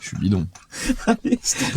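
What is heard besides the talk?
No everyday noise stands out behind the speech.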